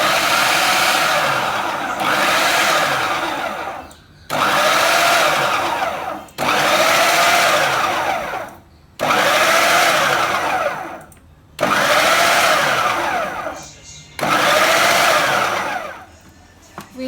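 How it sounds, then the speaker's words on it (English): A food processor cuts cold butter cubes into flour for an apple pie crust in six loud, even pulses of roaring whir, each lasting about two seconds with short silent gaps between. "And I'm adding this to my food processor. We're going to stir this until it becomes about the size of peas."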